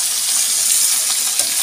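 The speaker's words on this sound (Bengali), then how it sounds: "মাছটা আগে ভেজে নিই ভালোভাবে ডাল ডাল করে" Pieces of bhola fish fry in hot oil in a pan, giving a loud, dense, continuous sizzle heard up close with no talk over it.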